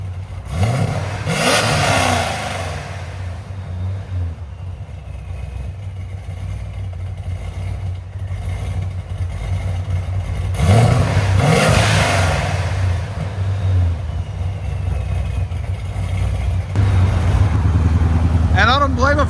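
Cammed, Procharged 2006 Chevy Corvette with a 6.0L V8 and valved exhaust, revved hard in loud bursts over a rough, lumpy idle, with people talking nearby between the blips.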